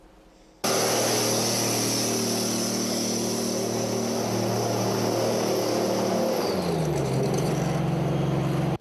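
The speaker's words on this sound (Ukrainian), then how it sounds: "Гостям заводу демонструють на що здатний танк оплот" An Oplot tank starts up and drives during a demonstration for visitors at the Malyshev tank factory, a loud engine roar that kicks in abruptly, holds steady near the listener, then drops in pitch as it shifts or moves off.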